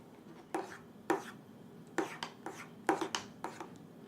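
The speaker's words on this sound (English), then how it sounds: "And then we'll mix this together." Banitsa filling of beaten eggs, crumbled cheese, yogurt, oil and water being stirred in a bowl, heard as a series of separate knocking, scraping strokes in an irregular rhythm, close and fairly quiet.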